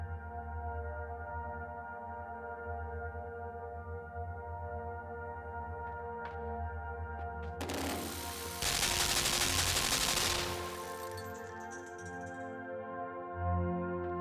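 A turret in the dark puzzle-platformer LIMBO fires a sustained burst of rapid gunfire lasting a few seconds. It is loud and harsh over a steady droning ambient hum, which continues after the burst stops.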